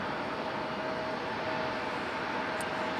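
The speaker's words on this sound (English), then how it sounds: "This one arriving is Delta Airlines 689, a 737-900 coming in from LAX." A Delta Airlines Boeing 737-900 arrives overhead, a steady broadband jet roar at moderate distance that carries on evenly throughout, with no voices.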